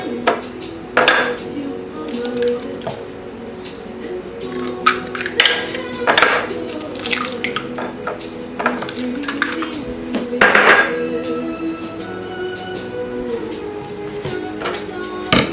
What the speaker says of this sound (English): we're going to whisk in our eggs